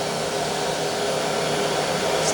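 An Aspiron 1200W canister vacuum cleaner runs steadily and fairly loud, a constant whooshing motor roar with no pauses and no talk.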